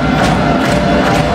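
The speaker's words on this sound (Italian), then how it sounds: "Tifo alle stelle qua a Bressanone" Home supporters roar loudly and continuously at a Serie A1 women's handball play-off semifinal in Bressanone (Brixen), a dense, steady crowd din filling the arena.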